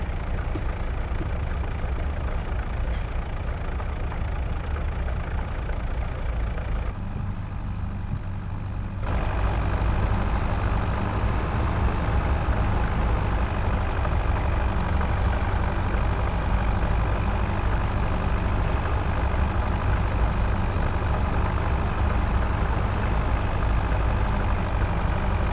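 A heavy truck engine from Farming Simulator 22 drones at a steady idle while its arm extends, with the low rumble holding constant and a slight change in tone partway through. No one speaks.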